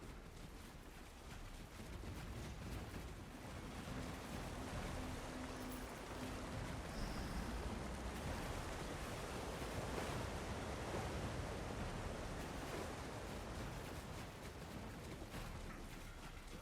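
Waterfall in ESO Dragonhold, a continuous broadband rush of falling water that holds steady and fairly loud for the whole stretch, with no voices.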